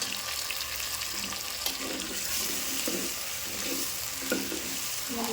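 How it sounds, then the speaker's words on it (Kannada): Cut tomatoes fry in a pan with a continuous hissing sizzle, and faint stirring taps now and then. "ಟೊಮೆಟೊ ಹಣ್ಣು ಫ್ರೈ ಆಗೈತ್ರಿ"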